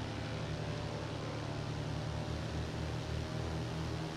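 Cessna 152 piston airplane engine held at 1700 RPM for a run-up check: a steady, droning roar with constant broadband noise, even and unbroken throughout, heard from inside the aircraft without talking.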